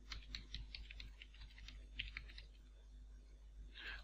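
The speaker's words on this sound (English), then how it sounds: "you need to type your web address" Rapid keystrokes on a computer keyboard as a web address is entered, a quick run of faint, close clicks followed by a brief pause and a final burst of taps.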